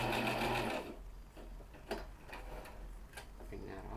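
A sewing machine stitches Dresden plate quilt pieces, a rapid whirring run at the start that stops, followed by light clicks and handling sounds under a voice talking.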